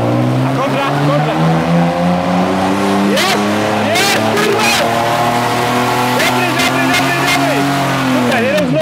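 A car drifting with tires sliding, engine droning and revving loudly up close with pitch sweeps as throttle changes, tire squeal mixed in, while people talk over it.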